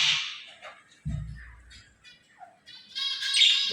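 A pet myna gives a few scattered chirps and squawks, close and fairly clear, with quiet gaps, then a brighter, busier run of calls at the end.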